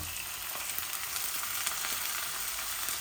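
Chana dal frying in a pan with onion, ginger and turmeric hisses in a steady, close sizzle with faint stirring clicks, continuous and fairly even throughout.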